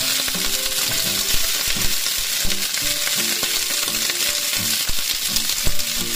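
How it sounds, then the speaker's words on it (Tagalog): Okra fries in a pan with a steady loud sizzle and crackle, while utensils clink and stir now and then close by. "Ipiprito ko na lang to."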